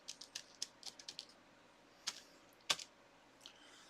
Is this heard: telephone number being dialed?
no